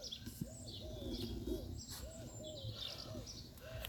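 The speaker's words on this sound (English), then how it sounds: "Can you hear that bird?" Repeated rising-falling bird calls, hoot- or coo-like, sound outdoors at a garden party, several in a row over a steady background murmur.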